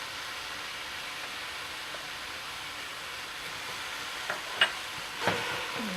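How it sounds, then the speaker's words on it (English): Ground turkey and garlic cooking in a pan over medium-high heat give a soft, steady sizzle, faint and close, with a couple of brief clinks of stirring near the end and no voices. "over medium-high heat, we're gonna cook our turkey. And to the turkey, we're gonna add the garlic"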